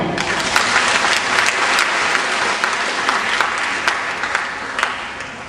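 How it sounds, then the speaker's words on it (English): Audience applause at an elementary school graduation ceremony, a loud, steady wash of many hands clapping together, sustained throughout and fading slightly at the end. "Please clap for them."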